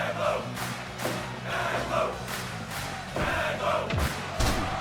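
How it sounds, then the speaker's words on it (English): A wrestling crowd roars and cheers in a steady, dense wash of voices, punctuated by thuds and rising swells of excitement. "But the crowd is fired up."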